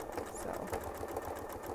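A quilting sewing machine stitches through quilt seams with a rapid, steady thunky pulsing, close and moderately loud.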